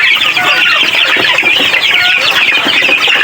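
Pet chickens, a young backyard flock about two months old, cluck and chirp busily close by, a loud, continuous chorus of overlapping calls without pause.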